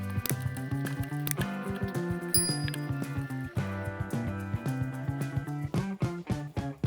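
Minced meat mixed with onion, coriander, paprika and sparkling mineral water being stirred thoroughly for cevapcici, giving wet squishing and clinking sounds in an irregular rhythm, close up, with no talking.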